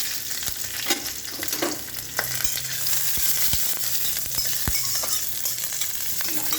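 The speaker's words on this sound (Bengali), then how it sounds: "আমার তেল গরম হয়ে গেছে, একটা কাঁচা লঙ্কা দিয়ে দেবো।" A green chilli sizzles steadily in hot oil in a pan, with a constant hiss and scattered sharp crackles and pops from the frying.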